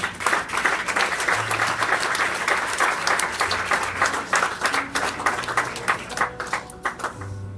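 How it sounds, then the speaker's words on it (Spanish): A church congregation applauding as people come forward during a service, a loud, dense round of clapping that continues steadily, with faint crowd murmur underneath. "Denle un aplauso que están viniendo."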